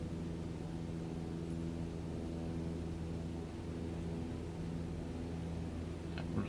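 A small airplane in Microsoft Flight Simulator 2020 flies near Hurlburt Field, Florida, its engine producing a steady, even drone with a constant tonal hum that stays unchanged throughout.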